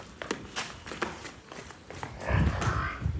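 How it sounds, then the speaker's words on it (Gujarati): Buffalo calves at a cattle shelter shuffle and step about, with a run of soft irregular hoof taps and thuds close by, growing a little louder toward the end, with no talk. "પાંજરાપોળની ભેંસોના પાડુડા, બરાબર."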